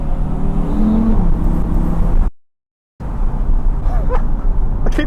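A 2021 Audi TT RS accelerates hard from inside the cabin, its loud engine drone rising in pitch. A brief cut of silence follows, then the engine note carries on with road roar.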